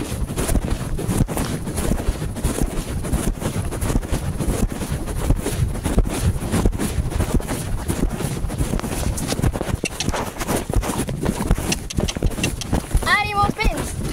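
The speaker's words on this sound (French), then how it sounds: "je refilme à cheval. Parce que je vais galoper n'importe quoi, je vais trotter." A horse trotting and galloping on a ride, with steady hoof beats under strong wind buffeting the microphone and a rider speaking at times.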